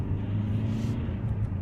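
Steady low engine rumble and road noise inside a 2015 Vauxhall Insignia 140 SR at about 30 mph as it rolls over a speed bump, a continuous close drone with no distinct thump standing out.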